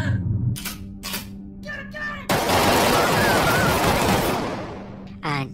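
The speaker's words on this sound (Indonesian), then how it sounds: "memperlihatkan suara atau sound effect suara tembakan shotgun dengan volume yang dinaikkan" A shotgun blast from a film, boosted in volume, bursts loud and sudden after a few short sounds, its noisy roar filling the clip for about two seconds before it tails off.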